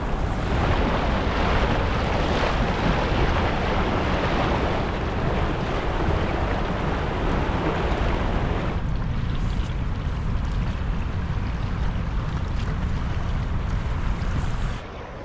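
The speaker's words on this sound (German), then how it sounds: "Da ist der Wasserfall." Rushing water of a waterfall on the Piteälven river in Lapland wilderness, a loud steady roar that fills the whole clip with broadband noise, easing slightly in the second half.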